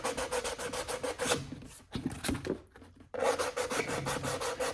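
Sandpaper rubs paint off an art piece in quick, steady back-and-forth strokes, loud and close. A short pause breaks the run, then the rhythmic rasping starts again.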